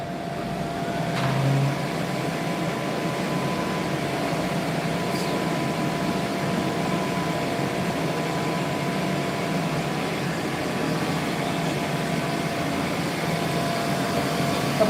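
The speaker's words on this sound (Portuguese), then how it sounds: "Vou botar a máquina para trabalhar para vocês" A Due Flow machine runs with a steady, even mechanical hum and a faint tonal whine, continuous and unchanging throughout, with no one speaking.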